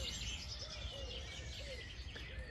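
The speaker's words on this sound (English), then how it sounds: "A bird just whistled right in my ear." A bird whistles very close by in a garden in late May, its bright chirping calls repeating over a dense, continuous background of other birdsong and outdoor noise.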